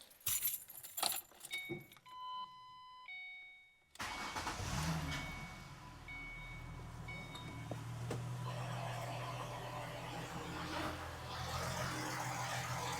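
Keys jingle briefly, then a V6 Ford Mustang engine, after a belt tensioner replacement, cranks and catches, settling into a steady, quiet, low idle that continues to the end.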